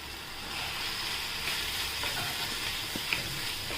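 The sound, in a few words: stirring garlic methi greens frying in a pan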